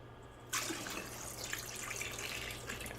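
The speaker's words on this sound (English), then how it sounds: "we're going to pour some of the coconut water here in this mason jar" Coconut water is poured into a mason jar, starting abruptly after a short quiet moment and continuing as a steady, close splashing trickle over a low background hum.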